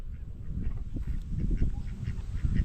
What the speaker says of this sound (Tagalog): yung itik nagsusug-sug dito